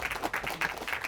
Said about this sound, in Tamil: கைத்தட்டுங்க எனக்கு.